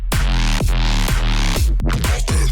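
Heavy, dirty electronic bass drop from a remake built in Serum, loud and continuous, with deep sub bass, pitch-dropping stabs and choppy rhythmic hits over about two and a half seconds.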